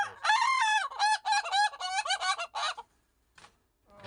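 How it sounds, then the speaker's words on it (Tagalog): Ayam Ketawa laughing chickens in a backyard coop: a long, rapid, rising-and-falling cackling call lasting nearly three seconds, close and loud, followed by a pause and a couple of fainter short clucks. "Ayam Kitawa guys. Ang tumatawang manok guys."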